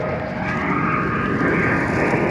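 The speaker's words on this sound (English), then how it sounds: "Got another airplane." An airplane passes overhead as a steady, broad engine roar that swells slightly, fairly loud and continuous without voices.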